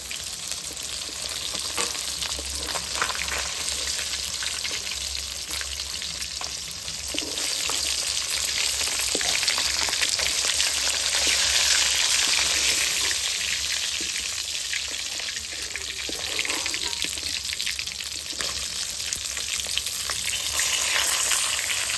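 Fish frying in a pan in a village kitchen makes a loud, dense, continuous close sizzle with spitting crackles that swell and ease slightly over time.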